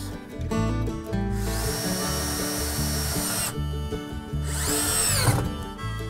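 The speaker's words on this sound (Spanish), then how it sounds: "ahora cojo el taladro atornillador, unos tirafondos y trincamos esto bien" Cordless power drill whirring in bursts, two long high-pitched runs as lag screws are driven into a wooden countertop, with grinding and clunks between them.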